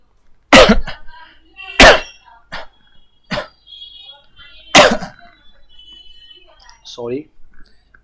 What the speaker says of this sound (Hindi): सॉरी, थोड़ी खांसी सी आ गई।